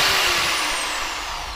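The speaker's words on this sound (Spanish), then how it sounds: "tenemos este pequeño taladro martillo que tiene una pequeña falla. Escúchalo." A faulty DeWalt hammer drill set to drill mode runs with its chuck not spinning, giving a loud, steady high-pitched motor whine that holds continuously and tapers slightly, close up and alone.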